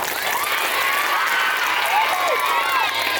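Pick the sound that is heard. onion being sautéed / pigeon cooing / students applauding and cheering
students applauding and cheering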